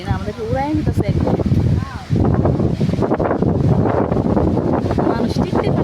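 Powerful storm wind strong enough to nearly knock people over roars close against the microphone, steady and heavy after a short pause, with someone talking over it at first.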